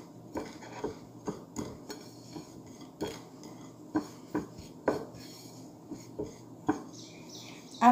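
Spices, salt and chicken cube powder being mixed in a bowl, giving a steady run of light, close clinks and taps of a spoon against the bowl over a faint background hum, with no talking.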